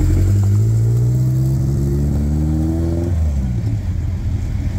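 A fast front-wheel-drive VW Golf 1 race car at a drag raceway revs loudly through a single large exhaust, its buzzing engine note climbing steadily before dropping off sharply and settling into a lower rumble.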